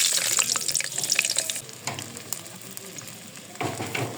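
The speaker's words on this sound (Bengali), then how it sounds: "আর এই যে আলু কয়েকটা দিয়ে দিচ্ছি" Potatoes dropped into hot oil in a wok sizzle and crackle loudly up close, a dense frying hiss with a few scraping stirs, easing slightly before another burst.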